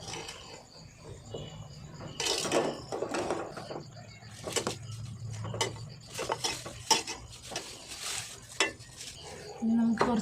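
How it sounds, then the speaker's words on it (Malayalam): Jackfruit curry stirred in a pot, a series of irregular scraping and clanking strokes of a spoon against the metal, some louder knocks, with a soft background hiss between them. "ഇനി നമുക്കിത് നല്ലോണം ഇളക്കി കൊടുക്കാം."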